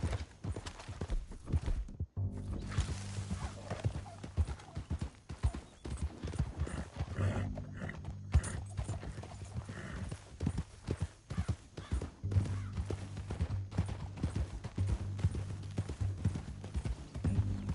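Horse hooves clip-clop in Red Dead Redemption 2, a steady rhythmic trot under a low game soundscape with occasional louder thuds, no talking over it.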